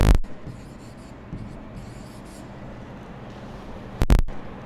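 Marker or chalk scratching across a classroom board during a Grade 6 math lesson on cuboid volume, a steady soft rasp running throughout, with a sharper, louder knock near the start and again near the end.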